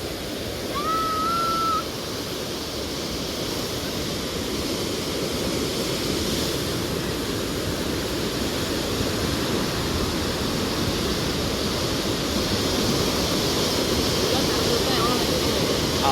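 River water pours through the opened Koneripatti barrage as a loud, continuous rushing roar that holds steady throughout, with a faint brief higher tone early on.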